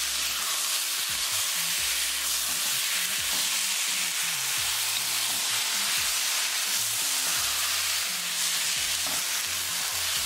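Matar paneer of peas and paneer being stirred in a hot pan over medium heat, a continuous sizzling hiss broken by repeated scraping strokes of the spoon against the pan, close and with no talking.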